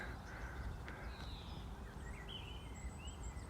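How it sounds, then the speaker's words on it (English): Garden birds calling in the open, with several faint, thin calls and chirps scattered over a soft, steady outdoor ambience. "we've gone from the cry of the grouse and the lapwing up on the moor to the ambient echo of garden bird song"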